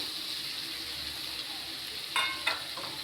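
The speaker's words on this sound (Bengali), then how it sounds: "এবার আমি আলুটা দিয়ে দিচ্ছি।" Pre-fried potatoes tipped into a hot pan, giving a steady close sizzle of frying with a couple of brief clattering bursts as they land and are stirred; no one talks.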